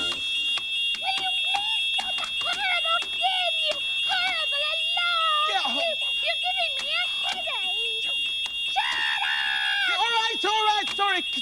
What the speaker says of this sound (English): never buy a smoke alarm from Mo